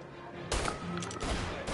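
Shotgun blasts in a video game: two or three loud broadband bursts at close range in quick succession, with faint background chatter.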